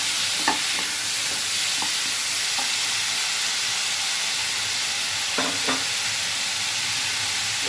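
Tomatoes sizzle in hot oil in a potato-tomato curry, a loud steady frying hiss with a few soft scrapes and taps of a spoon stirring the pan.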